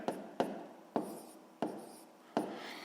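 Handwriting a number during a maths calculation: five distinct pen-down taps, each followed by a brief soft scratch, close and quiet with no voices.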